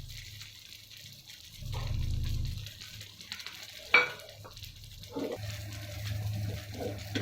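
Oats dosa batter sizzling in oil on a non-stick tawa over a full flame, a soft continuous frying hiss with a few brief louder bursts and small clinks, heard alone.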